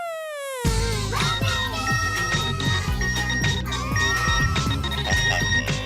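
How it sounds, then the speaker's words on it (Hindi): A mobile phone ringtone plays loud and close in a sitcom scene, a looping electronic melody with a beat that carries on steadily for several seconds after a brief rising tone. "अरे बंद करो ये मोबाइल।"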